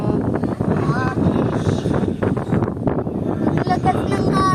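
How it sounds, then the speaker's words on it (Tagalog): Strong gusty wind buffets the microphone atop a ride at an amusement park, a loud broad rumble that runs continuously while people talk and laugh over it. "Oo, malakas pa yung hangin."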